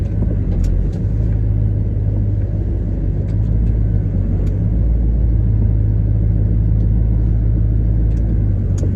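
A truck engine runs in freezing weather in Oklahoma, giving a loud, steady, low rumble that holds unbroken for the whole stretch with no voices.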